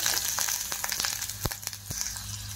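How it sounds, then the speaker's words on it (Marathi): Garlic, green chili and onion frying in hot oil in a wok, a steady close sizzle with occasional crackles and stirring clicks, no talking. "कढईमध्ये पहा आम्ही तेल टाकून घेतलेलं आहे, त्यामध्ये लसूण टाकून घेणार आहे, हिरवी मिरची टाकून घेणार आहे, कांदा टाकून घ्यायचा आहे."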